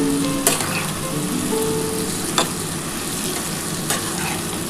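Potatoes frying in a pan sizzle steadily while ground poppy seed paste with green chillies is added and stirred in for Bengali aloo posto, with a few scraping spatula strokes over the constant hiss.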